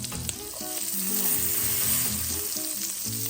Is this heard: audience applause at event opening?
no